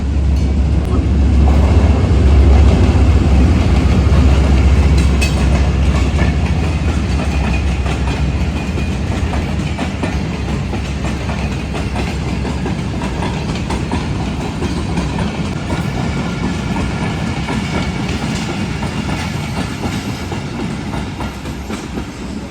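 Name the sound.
Shalimar Express train running on rails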